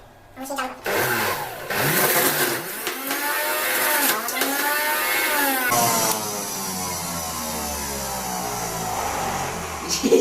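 An electric juicer whirs as it presses malta oranges after carrots, its motor spinning up with a rising, shifting whine and then running steadily, fairly loud and close throughout.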